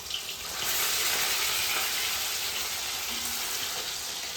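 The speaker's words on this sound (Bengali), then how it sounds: "আমার বউ এই যে এখন ভাজছে মাছ, মাছ ভাজছে" Fish frying in a pan in a home kitchen, with a steady, close hissing sizzle of hot oil that swells after a quiet start and holds at an even level.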